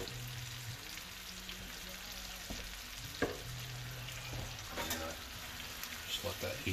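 Spinach dropped into a hot pan of Tuscan butter shrimp fries with a soft, steady sizzle, broken by a few louder rustles and stirring knocks, close by.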